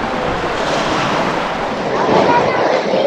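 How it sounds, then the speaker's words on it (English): Sea surf washing steadily against a rocky shore at Santa Cruz, a continuous loud rush of broken water with some wind buffeting the microphone. "There's some waves."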